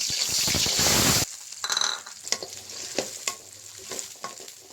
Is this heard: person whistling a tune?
no